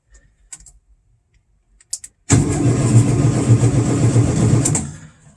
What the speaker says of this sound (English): Let's see if we can bump over the starter at all